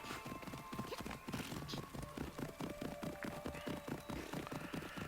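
A called horse galloping in Assassin's Creed Odyssey, with rapid rhythmic hoofbeats pounding steadily over a low background, close and prominent for several seconds.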